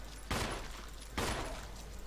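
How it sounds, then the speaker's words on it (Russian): Two loud gunshots in a video game, spaced about a second apart, each a sharp broadband crack over steady background noise. "я прям выстрелю в него"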